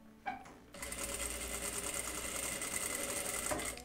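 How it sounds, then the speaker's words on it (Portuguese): A sewing machine topstitches the turned-in binding on a party dress: after a brief pause it starts up and runs at a steady, rapid, buzzing rhythm close by for about three seconds, then stops. "E vou fazer o acabamento do debrum, que é virar para dentro e pespontar."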